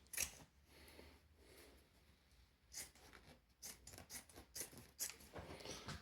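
Scissors cut a piece of rag from an old pillowcase, giving quiet, close snips and crisp fabric-cutting crunches in a quick irregular series.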